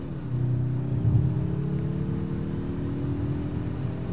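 A 2021 Mazda 3 turbo's low engine growl drones steadily, its pitch creeping upward as it idles and revs gently.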